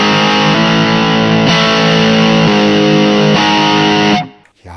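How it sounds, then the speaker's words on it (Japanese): Distorted electric guitar through a Zoom MS-50G+ multi-effects pedal with its pitch shifter turned off, back in standard tuning, chugging chords struck in a steady rhythm, loud and close, then cut short at the end. "このピッチシフターが半音下げてくれてるので、 これをオフると、普通のチューニングに戻ります。"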